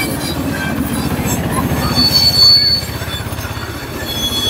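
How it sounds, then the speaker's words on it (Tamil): A train bound for Tirupati rolls past close by, its wheels squealing sharply over a rhythmic rumble of wheels on rails, with faint voices in the background. "திருப்பதிக்கு போகிற ட்ரெயின் அதெல்லாம்"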